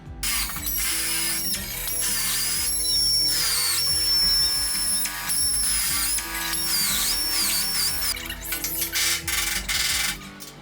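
A power drill bores out spot welds on a Willys Jeep fender in sustained, high-pitched whining runs with brief pauses and pitch dips as the bit bites into the sheet metal, close and loud.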